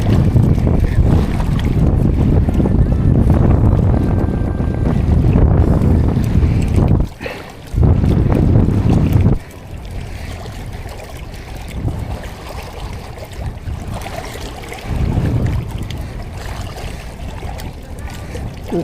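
A motorized fishing bangka out for handline fishing runs with a loud, low engine rumble mixed with heavy wind buffeting, dropping briefly twice and then continuing at a quieter level.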